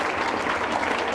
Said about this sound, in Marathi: मित्रासाठी जोरदार टाळ्या.